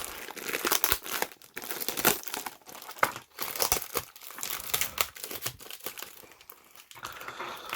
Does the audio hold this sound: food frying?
no